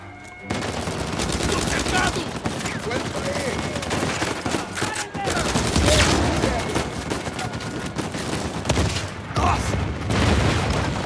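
Turret machine gun fire in Uncharted 4 rattles loud and steady in continuous heavy bursts, with booms and debris mixed in and excited voices talking over the barrage.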